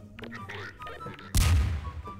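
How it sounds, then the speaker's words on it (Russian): A grenade explodes in the video game Garry's Mod, a single loud, sudden blast that rolls out with a rumbling tail, following a stretch of quieter game noise. "это, наверное, они кидают гранаты. Взрыв был с той стороны."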